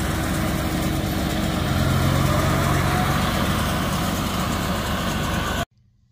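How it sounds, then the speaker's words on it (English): A farm tractor pulling a hay baler rumbles past during September hay season, a loud steady engine drone close by for several seconds that cuts off abruptly near the end. "She had to wait on the tractor to get by,"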